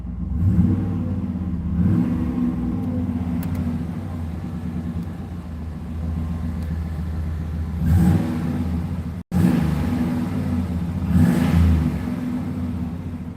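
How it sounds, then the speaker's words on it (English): A car engine fitted with dual exhaust idles with a deep rumbling note, then gets a few short revs that swell and drop back, heard close and steady. "and they also put in the dual exhaust. So, let you guys hear it. Do a few revs."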